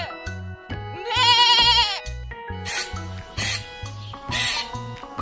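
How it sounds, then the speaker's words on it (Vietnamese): A goat bleats several times in quick, wavering cries, one long and loud followed by shorter ones, set against a steady rhythmic music backing. "Con dê."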